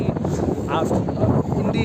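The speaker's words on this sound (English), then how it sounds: "It's very windy." Steady wind buffets the microphone in a continuous rough rumble near Bhuigaon Beach, with a voice faintly talking underneath.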